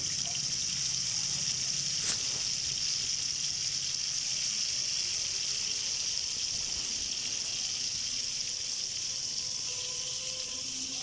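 Onion and chili paste dropped into hot oil for a hilsa bhuna, giving a steady, quiet sizzle and hiss that holds evenly throughout, with one brief sharp crackle early on.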